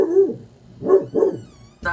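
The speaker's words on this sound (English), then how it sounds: "so the dogs are barking" Guard dogs bark indoors in a few short, close barks with brief pauses between them, with no talk over them.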